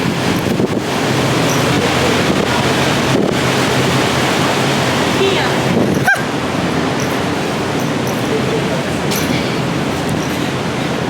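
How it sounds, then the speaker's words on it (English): Loud steady roar of a large fan outside a downtown building blowing hot air, a broad constant whoosh that fills the whole stretch with a brief sharp knock midway. "It's like some type of fan outside the building. It's blowing heat."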